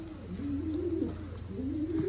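Young pigeons coo softly on a loft landing board, a few low, wavering calls rising and falling close by against a steady background hum.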